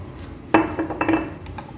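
A spoon stirs butter chicken masala with chilli powder in a pan: one sharp metallic clank, then a few short scraping and clinking strokes, close and brief.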